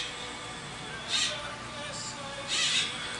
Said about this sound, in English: That bird's kind of loud.